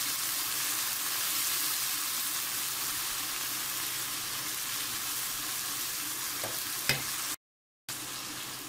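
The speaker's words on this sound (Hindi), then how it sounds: "फिर भुनेंगे इसे।" Tomato and ginger masala with salt, chili and dried coriander powder frying in a pan, a loud steady sizzle with stirring scrapes, a brief clatter near the end and a short gap of silence.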